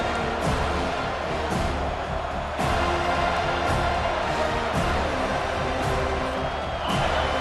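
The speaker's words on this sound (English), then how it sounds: "Here comes this home crowd as the defense tries to get off the field on 3rd down." A home stadium crowd in College Football 25 roars continuously during a third-down defensive stand, a loud, steady wash of cheering with brief surges.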